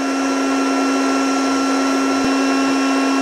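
A KKSevens magnetic induction heater heats the head of a steel bolt toward cherry red, giving a steady, loud electronic whine with a strong tonal hum that holds unbroken throughout, with no talk.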